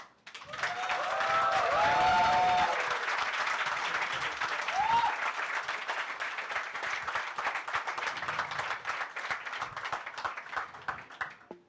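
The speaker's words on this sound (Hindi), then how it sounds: "इतनी तालियों के बाद" A studio audience at a talk show on Hindi film screenwriting applauds a panelist, with loud sustained clapping and some cheering that swells early and then fades slowly, and a few brief voices heard over it.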